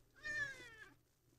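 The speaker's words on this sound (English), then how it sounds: "I swear there's a cat here, okay?" A house cat gives a single drawn-out meow, close and fairly soft, with a faint room hum underneath.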